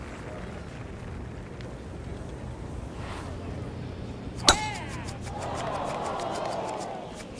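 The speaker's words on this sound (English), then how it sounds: "Frank, did you hear the sound of that coming off the club face?" One sharp, crisp crack of a golf club striking a ball off the tee in a PGA golf video game, standing alone above a low murmur of ambient crowd noise.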